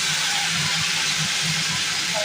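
Urad (biulir) dal tipped into hot oil in a home kitchen pan, giving a steady, loud, unbroken hiss of sizzling with no talking over it.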